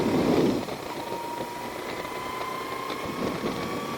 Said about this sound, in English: the engine runs kind of rough